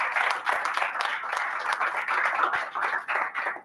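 Toastmasters club meeting audience applauding to welcome a speaker, a dense, steady round of clapping from a room full of people lasting a few seconds with no voices over it.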